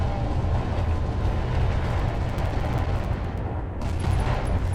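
Mech weapons firing in the Roguetech BattleTech video game, a dense continuous barrage of overlapping gunfire and explosions forming a loud, rumbling wall of sound throughout.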